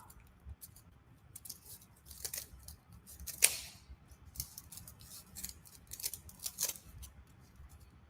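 Scissors snip through material while trimming a Halloween craft, giving a handful of faint, irregular cuts and crisp clicks, with one sharper snap near the middle and quiet rustling between.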